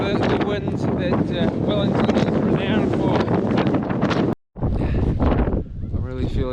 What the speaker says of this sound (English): As you can hear, the wind is now howling.